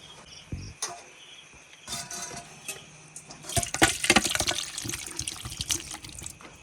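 Clinks of a clay pot and lid, then a dense wet rushing and sloshing as cooked chicken is poured out, growing louder toward the end.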